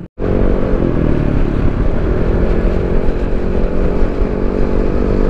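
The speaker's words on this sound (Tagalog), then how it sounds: "Ang daming motor, eh." Motorcycles ride along a smooth mountain road, a loud, steady engine drone with wind rush that starts abruptly after a brief silent gap and holds constant throughout, with no talking.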